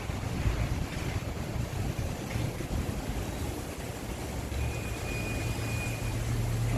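Strong wind and a dust storm sweep through Mecca, Saudi Arabia, roaring as steady broadband buffeting that fills the whole stretch with no speech.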